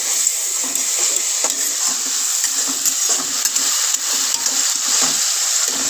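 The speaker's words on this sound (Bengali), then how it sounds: "এবার ভালো করে আবার একটুখানি কষিয়ে নিচ্ছি সব দিয়ে" Cauliflower-potato curry masala with sugar being sautéed in a pan, a steady soft hiss and sizzle with faint scraping of the spoon, close and continuous.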